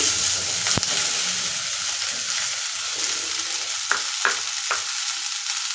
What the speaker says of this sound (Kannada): ಈಗ ಅದೇ ಆಯಿಲ್ಗೆ ಈರುಳ್ಳಿ ಸೇರಿಸ್ಕೊಳ್ತಾ ಇದ್ದೀನಿ.